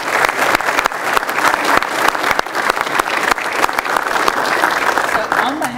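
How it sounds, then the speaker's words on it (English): Applause at a county board of commissioners meeting honouring a departing commissioner, steady dense clapping from a roomful of people, close and continuous for several seconds. "Let everybody clap for you."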